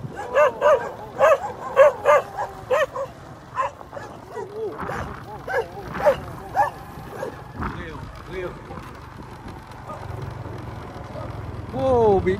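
Dogs bark and yip repeatedly while chasing someone walking past a rural house in a village in Long An, loud rapid barks close by with whimpering tones, mixed with a person talking.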